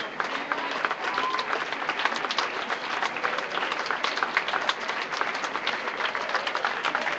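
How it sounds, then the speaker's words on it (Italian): A jazz festival audience clapping for saxophonist Francesco Cafiso in June 2013, a sustained, even patter of many hands with no big swells, continuing for several seconds. "Però è un po' moscio l'applauso"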